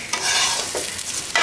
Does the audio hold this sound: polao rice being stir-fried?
yes